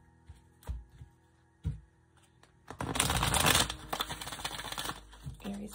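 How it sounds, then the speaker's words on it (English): A deck of oracle cards is shuffled close up: a few sharp taps and card knocks, then a dense, loud riffling burst lasting a couple of seconds, followed by softer card handling. "All the decks have been pre-shuffled, but we're going to just do a couple more."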